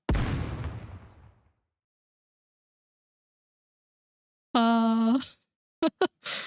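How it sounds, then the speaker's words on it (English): A single booming explosion from the video game Nikke rumbles and fades over about a second and a half, then silence before a brief tonal, voice-like sound and a few short blips. "A series of explosions erupt out of Behemoth's abdomen and head."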